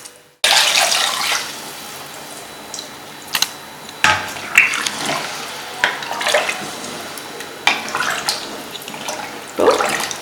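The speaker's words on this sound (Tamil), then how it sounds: "இப்போ 5 கிளாஸ் தண்ணி ஊற்றியாச்சு." Water poured from a glass into a pot for pepper chicken biryani, a continuous splashing stream with a few louder pours and clinks, close and fairly loud with no talking.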